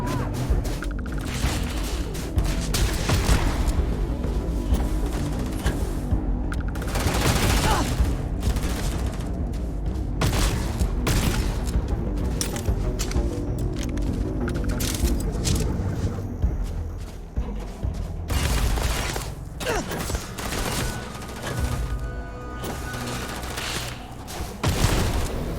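Sustained Starfield gunfight against pirates, dense bursts of gunfire and a heavy grenade explosion filling the whole stretch, loud and continuous with short lulls, game sound effects layered throughout.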